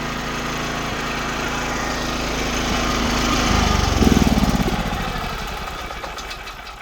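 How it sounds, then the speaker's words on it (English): A Hyundai four-stroke generator engine running at close range, a steady buzzing putter with a brief load change and surge midway, then settling back to an even hum. "We've got a great running generator there."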